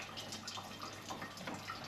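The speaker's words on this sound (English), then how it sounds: "that noise is we're just draining the pressure off on the system." Steady trickling and splashing of water draining from an Ideal 24 Atlantic boiler heating system to release pressure, a continuous low gurgle with faint drips, fairly quiet and close.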